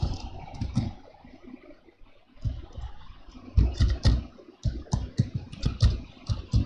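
Someone types on a computer keyboard. Irregular bursts of close clicks and taps come in uneven clusters with short pauses between them, and no voices.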